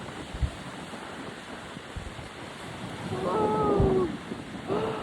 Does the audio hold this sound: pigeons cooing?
no